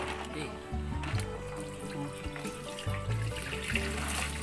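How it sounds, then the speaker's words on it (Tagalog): Water is poured and splashed as it is changed in a container holding freshly caught snails outdoors, with trickling and sloshing under nearby talking. "Palitan natin ng tubig."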